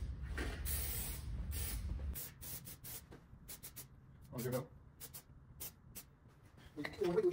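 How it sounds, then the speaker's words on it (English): A light coat of epoxy primer sprayed from a can onto bare car body metal during a rust repair: short hissing bursts come and go amid faint handling noises, fairly close and quiet, with no one talking. "And then we just want to give it a light spray."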